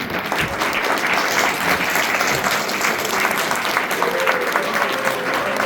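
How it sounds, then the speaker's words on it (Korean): An indoor audience at a legislative report meeting in a Cheongju culture and sports hall applauds steadily, a dense, even wash of many hands clapping at close range. "그럼 박수 좀 부탁드려도 되겠습니다."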